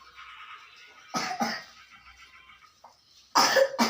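A few sharp coughs, a pair close together and then another harsh burst near the end, with quiet murmuring between them.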